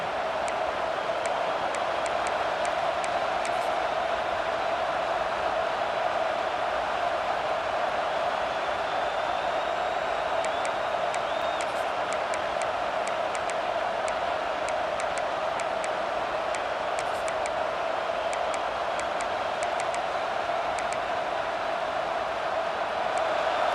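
A stadium crowd roars in EA Sports College Football 26, a dense, unbroken wall of noise that holds steady and loud throughout, with faint sharp ticks scattered over it.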